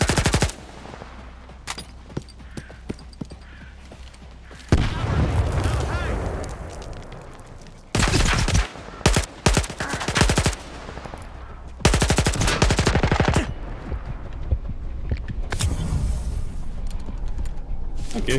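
Bursts of rapid automatic gunfire and single shots ring out in the video game Stalker 2 on veteran difficulty, loud and clustered in several volleys separated by quieter gaps, with brief speech between them.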